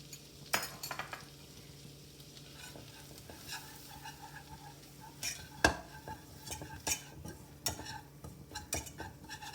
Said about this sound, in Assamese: ময়দাখিনি অকণমান ভাজি লৈছোঁ।